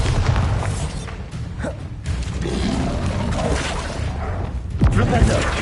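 Hogwarts Legacy combat with a Bombarda exploding curse: sharp bursts and crashing booms rise over a busy wash of spell noise, with talk running underneath.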